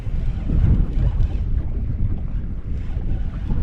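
Strong, chilly wind buffeting an outdoor fishing spot by the water, a loud, continuous low rumble with gusts that roar steadily throughout.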